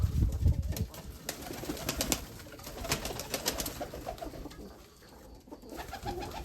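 Pigeons cooing in a backyard loft, several soft low coos repeating through the clip with a louder burst near the start, alongside other faint bird noises and no talking.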